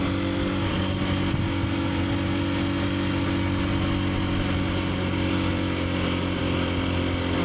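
Husqvarna FE350S motorcycle engine droning steadily while riding, a continuous loud rumble with wind noise and a light throttle blip, no pauses across the stretch.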